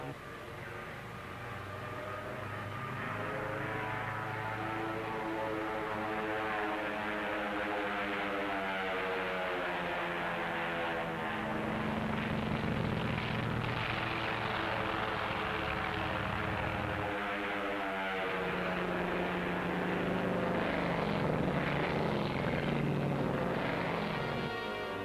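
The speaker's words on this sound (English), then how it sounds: "the drone aircraft are launched and temporarily guided from the carrier" Drone aircraft in flight during the 1946 Operation Crossroads atomic tests, a continuous droning engine hum with a steady buzzing tone that rises slightly and holds throughout, with no voices.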